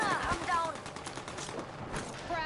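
Video game gunfire rattles in a rapid automatic burst, loud and close, with a voice talking over the shots.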